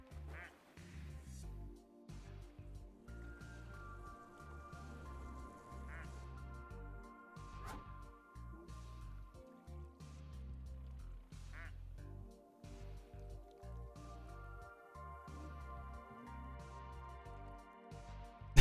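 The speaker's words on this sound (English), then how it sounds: "There's so many ducks." Ducks, including a boxer duck, quacking again and again in a steady chatter with music-like tonal layers underneath, loud and close throughout.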